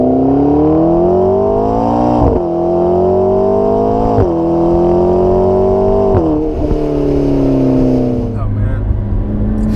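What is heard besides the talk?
sports car accelerating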